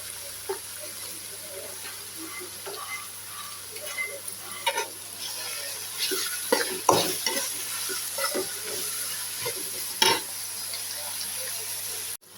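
Green chillies fry in a pan for egg podimas, giving a steady sizzle with scattered clatter and scraping from stirring, close and moderately loud, with no clear speech.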